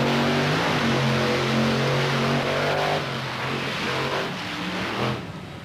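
A monster truck in a long-distance jump contest roars loudly and steadily as it revs, a thick, sustained engine rumble with its pitch wavering slightly and easing off a little toward the end.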